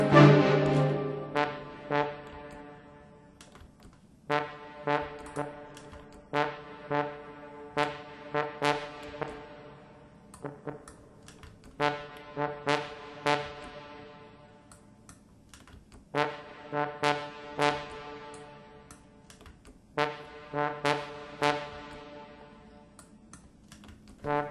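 A Sample Modeling trombone virtual instrument plays a rhythmic pattern of short, punchy brassy notes in a regular repeating pulse, opening with a louder sustained chord, with no talking.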